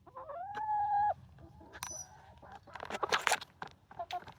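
A chicken calls close to the microphone, first with a drawn-out wavering cry and then with scattered squawks, clucks and scratchy rustling noises.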